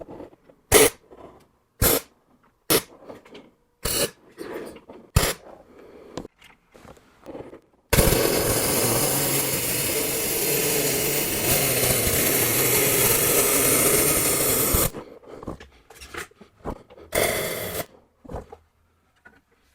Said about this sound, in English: So now we'll get the tube clamped into place and tack welded.